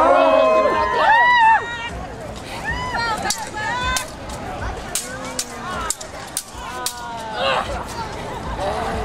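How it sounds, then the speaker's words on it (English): Crowd at a pirate festival in Portland cheering and calling out, voices rising in whoops and shouts with scattered sharp claps and chatter, moderately loud and close throughout. "Hear some reactions here. Either cheering or booing."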